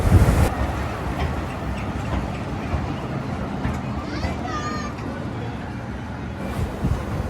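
A small amusement park ride train at Ullash Park, Khulna, busy with Eid visitors, rumbles steadily under crowd noise and children's voices, with a brief squealing tone partway through.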